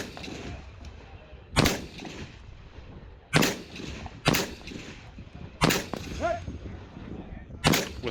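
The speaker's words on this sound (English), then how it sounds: "With my final shot, I finish off the rifle portion of the stage" Rifle shots through a Surefire training suppressor at steel targets during a multi-gun match stage, five loud, muffled reports spaced irregularly over a low outdoor background.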